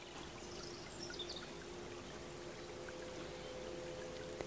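Steady river water flowing continuously over a sandy, stony bed, a soft, even rushing wash with no clear breaks, heard alone without any voices.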